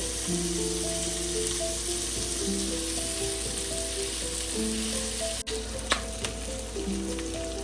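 Chopped onions sizzle in hot oil in a pan, a steady loud frying hiss with background music playing and a couple of brief clinks near the end.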